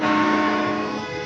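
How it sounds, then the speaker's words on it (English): A loud, sustained car horn blares for over a second, a dense harmonic tone that fades slightly toward the end. "That's a loud honk."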